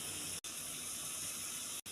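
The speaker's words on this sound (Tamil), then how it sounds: "இப்போ பருப்பு தண்ணியை சேர்த்துக்கலாம்." Lentil water being poured into a pot of boiling amla rasam, a continuous close liquid gush with two brief cut-offs, no speech.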